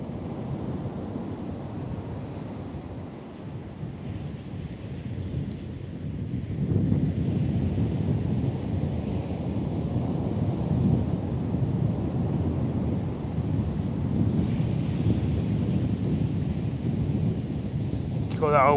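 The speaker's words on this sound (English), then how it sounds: "God, that old wind's getting cold." Strong cold wind of about 40 mph buffets the microphone on an open shore-angling beach at Trimingham, with surf rumbling underneath in a constant, loud roar and no speech.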